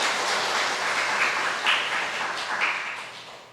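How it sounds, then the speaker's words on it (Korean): A diffuse wash of congregation applause during a Sunday morning church service, fairly loud, with a few brighter swells of clapping rising and falling. "박수 한번 쳐줄까?"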